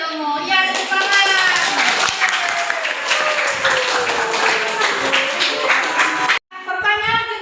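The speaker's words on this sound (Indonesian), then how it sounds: "Iya, tepuk tangan." Classroom of children clapping their hands together, a loud, dense burst of claps close by with a voice over it, cutting off briefly before talking resumes.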